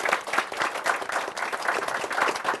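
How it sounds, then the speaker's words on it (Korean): Audience applause for the MCs at a Korean venture business forum, a steady, dense wash of many hands clapping that holds evenly for the whole stretch. "여러분 수고해주신 MC분들 박수 좀 부탁드립니다"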